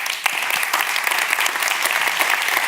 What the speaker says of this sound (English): Give him a round of applause for Roy Dings.